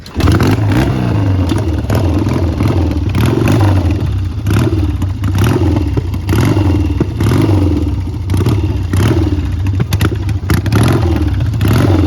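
A 1977 Triumph T140V Bonneville 750 motorcycle engine runs loud and close, revving repeatedly in uneven surges with mechanical clatter, occasionally stumbling as if cutting out.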